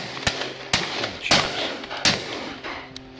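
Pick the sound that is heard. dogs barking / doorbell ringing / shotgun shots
shotgun shots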